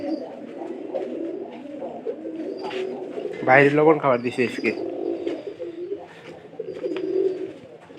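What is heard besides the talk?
pigeons cooing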